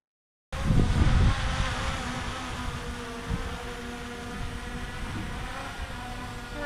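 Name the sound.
Antigravity A1 drone landing, heard from right next to it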